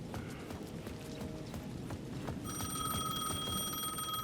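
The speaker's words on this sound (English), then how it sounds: "The payphone at the edge of the plaza was ringing again." Payphone ringing in the video game Alan Wake II, a steady electronic tone that starts partway through and holds to the end, moderately loud over a dense, rumbling game background with faint tapping.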